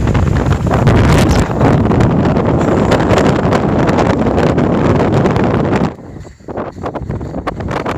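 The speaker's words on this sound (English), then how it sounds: "It's breezy." Strong wind gusts across an open Yorkshire Dales hillside on the Pennine Way near Horton-in-Ribblesdale, roaring and buffeting the microphone loudly before easing suddenly near the end.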